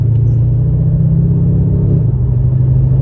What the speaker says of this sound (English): Finally driving this car 8 months later. Brand new engine, brand new transmission.